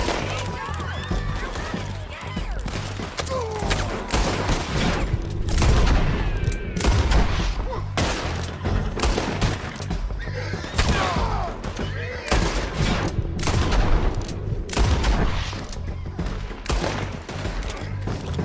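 A rapid gunfight in Red Dead Redemption 2, many dense overlapping shots and loud bursts keep going throughout while voices shout over the firing.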